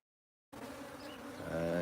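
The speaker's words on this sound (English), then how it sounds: "This here where the bees have landed today and they're going in, it's called a catch box." A swarm of bees enters a six-frame catch box, a dense steady buzzing hum that starts abruptly after a moment of silence and swells slightly louder, close and continuous with no voices.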